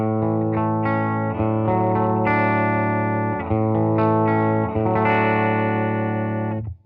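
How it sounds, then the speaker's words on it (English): Clean electric guitar chords ring out through a Soldano tube amp, strummed in a steady sequence with sustained, bright harmonics and no talking. "And this is what the amp sounds like clean."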